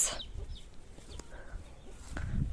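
Chickens cluck a few times at close range, with short scattered calls over a low rumbling background.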